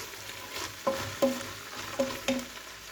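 Spoon stirring and turning ingredients in a hot pan while sautéing for a sucuk and dried bean stew, with four distinct scraping knocks over a soft continuous sizzle, close and moderately quiet.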